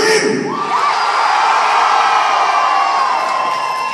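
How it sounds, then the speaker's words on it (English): Concert crowd cheering and whooping at once, loud and continuous, with high shrill yells like excited children over a broad roar that holds for several seconds. "when people cheer here, it's like excited children all at the same time"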